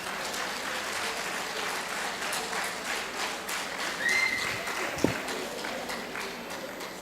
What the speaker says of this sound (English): If we ask for claps, whistle also comes.